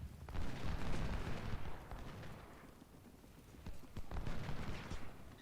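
Heavy artillery and rifle fire in the Ultimate General: Civil War strategy game, a dense, rumbling wall of volleys and booms that swells at the start, dips midway and builds again toward the end.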